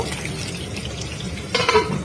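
Pabda fish, rubbed with salt and turmeric, frying in hot oil in a wok, giving a steady close sizzle with brief louder spattering bursts near the end.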